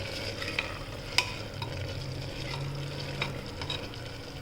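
Cooking food being stirred in a pan after turmeric is added, while preparing a Gujarati festival meal at home: a steady frying sizzle with occasional scraping clinks of a spoon, close and moderately quiet, with no talking.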